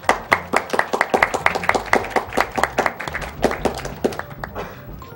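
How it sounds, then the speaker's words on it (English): Two gloved hands clap in a quick, fairly even series of sharp, close claps, about four per second, with a voice briefly audible among them. "The sound of two gloves clapping."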